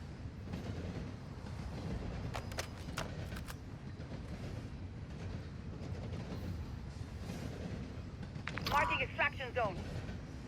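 A moving train in the video game Call of Duty Modern Warfare II rumbles steadily with faint rhythmic clacks, and a brief metallic wheel squeal flares near the end.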